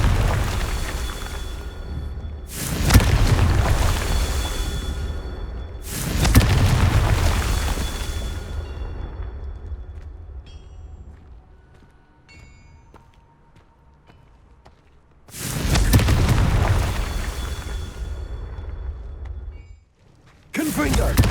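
Confringo blasting spells exploding in Hogwarts Legacy, three loud booming bursts each decaying into a rumbling tail, separated by quieter stretches with game sounds, with a fourth blast cut off at the very end.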